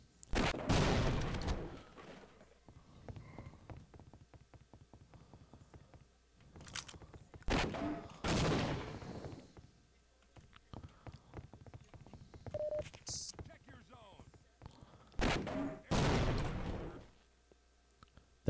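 Gunfire in the game Half-Life: Opposing Force comes in several loud bursts of rapid shots spread across the stretch, with quieter gaps of clicks and movement sounds between them.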